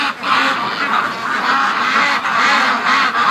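A flock of free-range ducks quacks continuously and close by at feeding time, a dense overlapping chorus of nasal calls with no voices.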